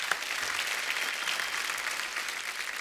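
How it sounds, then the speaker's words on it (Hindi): A studio audience on a television show applauds a team with loud, sustained clapping, a dense even roar of many hands holding steady throughout. "तो एक बार तारा फ्रॉम सतारा की टीम के लिए जोरदार तालियां।"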